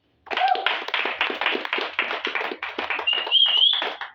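A church congregation claps in praise of the Lord during worship, a dense, steady applause with uneven rhythm that holds for several seconds, joined by a few high cheers or ululations near the end.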